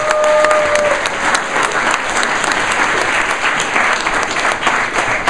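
Sustained applause from a startup event audience, steady clapping that fills the whole stretch without pause.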